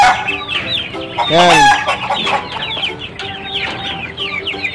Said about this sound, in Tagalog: yan yung mga alaga kong manok na Rhode Island Red at saka Black Astrolot.